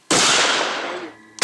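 A single loud shotgun blast at clay pigeon targets in a forest clearing, close and sharp, its noisy burst decaying over about a second before another sound begins at the end.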